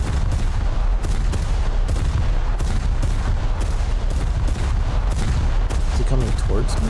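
Naval guns fire in War Thunder with loud, continuous booming and rumbling shots layered over heavy engine and sea noise, and a voice speaks through part of it.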